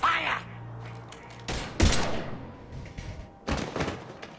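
Gunfire erupts in a video game as a few loud, sharp shots and bursts rip out in separate clusters, close and punchy, with thudding impacts between them.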